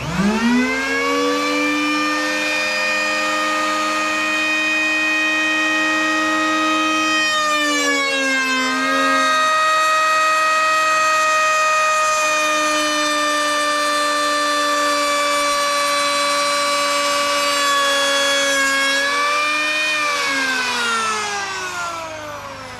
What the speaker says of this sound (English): I am now going to run the planer on them to get them nice and smooth